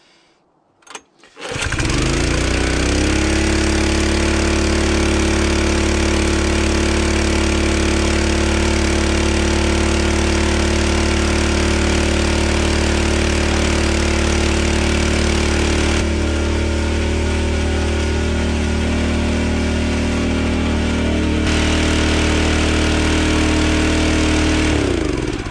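After a short sputter, a wood splitter's small engine catches and roars into a loud, steady run that stays close and unbroken to the end.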